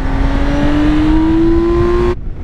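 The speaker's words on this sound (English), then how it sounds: "that engine does sound pretty naughty when you roll it on" Engine of a BMW K 1600 GT motorcycle revving steadily upward as the throttle is rolled on, a loud, close, continuous rising drone that cuts off abruptly near the end.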